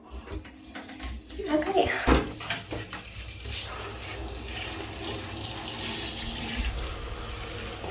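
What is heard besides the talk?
shower water running while watering houseplants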